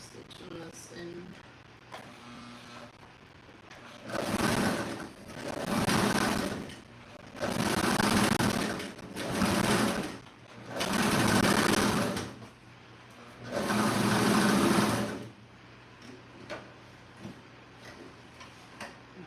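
A sewing machine double stitching the end of a bed pillow, running in six distinct bursts of rapid mechanical clatter separated by short pauses, close and fairly loud.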